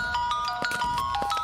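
A mobile phone ringtone plays a bright, repeating electronic melody of short chiming tones at moderate volume, steady throughout with no voices.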